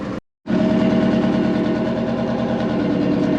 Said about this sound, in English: Start her up and get her warmed up.